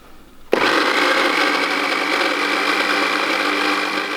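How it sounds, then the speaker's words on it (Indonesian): An electric blender starts abruptly and runs steadily, loud and close, grinding a spice paste with a little water for Mie Aceh, including cardamom; the motor's whirring drone holds for several seconds with no talk over it. "sekarang kita mulai ngeblender"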